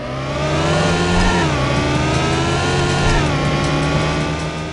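A car engine in Need for Speed 3: Hot Pursuit, the 1998 racing game, revs loudly and steadily at the start of a race, its pitch climbing and dipping through gear shifts, alone without talk.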